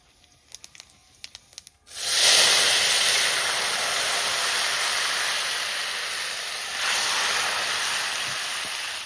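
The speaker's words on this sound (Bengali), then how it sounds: "এবার এই তেলের মধ্যে কটা গোটা জিরে ফোড়ন দিয়ে দেবো।" Whole cumin seeds hit hot oil in a pan while a Bengali fish dish is cooked, bursting into a loud, close, sustained hiss that follows a few light clicks and flares again midway.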